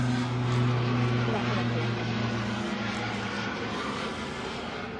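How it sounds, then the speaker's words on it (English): Airplane passing overhead as a steady low droning rumble with a humming tone that slowly fades, heard in a quiet indoor setting. "let's wait for the airplane to go"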